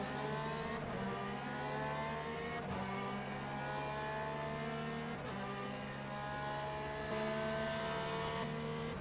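Several race car engines in the Le Mans Ultimate racing game, with a Porsche running ahead, hold steady high revs. Gear shifts break the note at regular intervals, and the engines whine loud and close with no talking.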